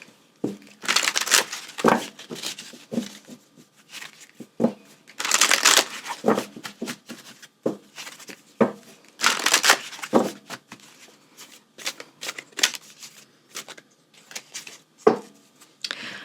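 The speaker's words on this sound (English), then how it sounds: "I'm shuffling all of these out in the beginning" Tarot cards are shuffled close up in repeated bursts, riffling and sliding sounds separated by short pauses, with some faint handling noise between.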